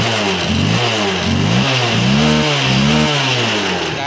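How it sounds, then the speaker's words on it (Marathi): A Honda Unicorn motorcycle engine, recently repaired after a starting fault, revs steadily and loudly up close, rising and falling in repeated throttle swells without any talk. "आता गाडी प्रॉपर रेस घेता."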